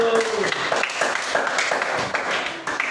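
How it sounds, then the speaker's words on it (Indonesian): Brief, scattered clapping from a primary school class praising a pupil, close and lively with children's voices mixed in over a few seconds. "tepuk tangan untuk Ayu"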